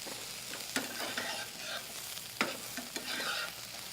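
Sliced squash sautéing in a skillet gives a steady, fairly quiet sizzle, broken by a few sharp clicks and scrapes of a utensil stirring against the pan.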